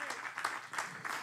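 A church congregation clapping during a Good Friday sermon, a short burst of dense hand claps with rhythmic peaks, fairly close and full, with a voice faintly underneath.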